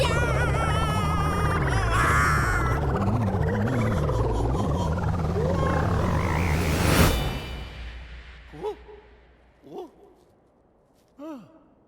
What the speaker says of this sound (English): we have ourselves a bunch of frogs here